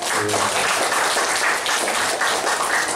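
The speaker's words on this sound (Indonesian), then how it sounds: "kita tepuk tangan untuk Pak Anis" Steady crowd applause fills the room, a dense wash of many hands clapping at even loudness with no pauses.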